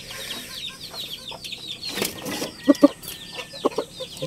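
Mestiso roosters and hens clucking in a backyard farm, a few louder clucks standing out near the end over a busy background of other birds.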